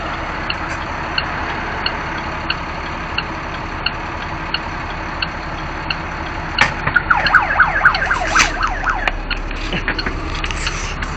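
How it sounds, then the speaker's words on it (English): A siren switched on aboard a converted school bus camper stopped at a traffic light, rising and falling in quick wailing sweeps over steady engine idle and road noise, loud and close for a few seconds before cutting off. "Oops, just turned the siren on."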